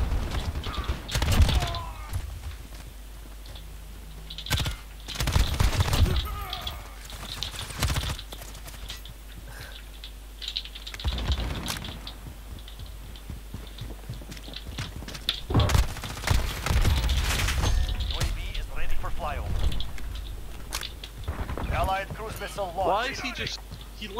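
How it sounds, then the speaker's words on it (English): In a Call of Duty Modern Warfare match, bursts of gunfire crack in clusters amid mechanical clatter and game effects, with a player talking throughout. "Shoot, kill an enemy by shooting them in the head."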